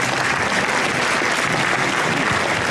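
Audience applause for a singer at a municipality's 40th anniversary jubilee in Pakosław, a steady dense clapping from a crowd sustained loudly and evenly throughout with no pauses.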